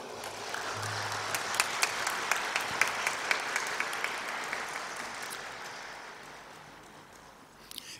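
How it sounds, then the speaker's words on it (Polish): Sustained applause from a concert audience for a third-place award winner at a Polish papal centenary concert, a dense wash of many hands with a few sharper claps standing out, slowly fading near the end. "Serdeczne brawa"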